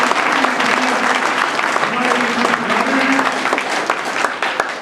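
Loud, sustained applause from a crowd welcoming guests at a gathering, with dense clapping running throughout and a voice speaking over it.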